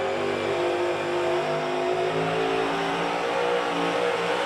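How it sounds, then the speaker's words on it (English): Race car engine on a dirt track during final practice at the Food City Dirt Race, a loud, steady mid-pitched roar with continuous throttle revving held close and constant throughout, no voices. "Hear his throttle input, though."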